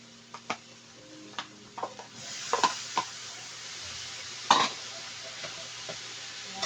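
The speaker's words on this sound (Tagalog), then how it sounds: "Haluin po natin ganyan para yung mga gulay ay pantay ang pagkakalagay" Ground pork with chopped kangkong and vegetables being stirred in a pan as filling for lumpiang Shanghai: faint, scattered scrapes and clinks of a utensil against the pan over a low background, a few sharper knocks standing out.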